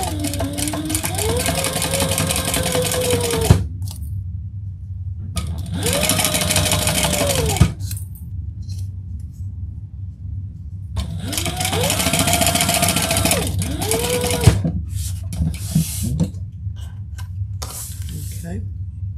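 A sewing machine stitches seams in bursts of steady whirring, stopping and starting several times, with a quieter hum and the odd clunk in the pauses between runs.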